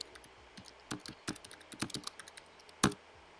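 Someone types a clothing listing for a blue polo shirt on a computer keyboard, with quiet close clicking keystrokes in an uneven rhythm and one sharper key press near the end.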